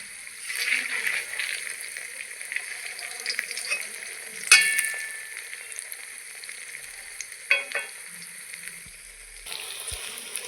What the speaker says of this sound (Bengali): এইভাবে আমি লাল করে সবগুলো ভেজে নেব।